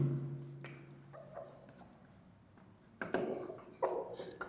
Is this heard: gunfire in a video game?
no